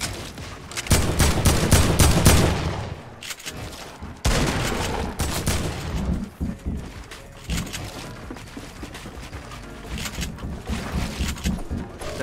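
Loud, close gunfire from the battle royale game Fortnite, coming as dense rattling bursts that break off abruptly and resume, with quieter scattered shots toward the end.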